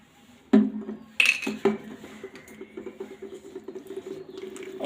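Mustard oil being added to a spice paste of green chilli, ginger, cumin, garlic and garam masala and mixed in a bowl, with two sharp clinks followed by a rapid patter of soft squelching and tapping, close and quiet.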